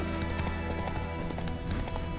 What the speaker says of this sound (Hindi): घोड़ा भी तेज भाग रहा है